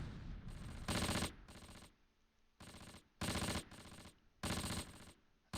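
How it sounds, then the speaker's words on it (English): Machine gun fire in the Close Combat video game, several loud sustained bursts repeating at regular intervals with quieter gaps between them. "we'll go ahead and let the machine gun open up there for a moment"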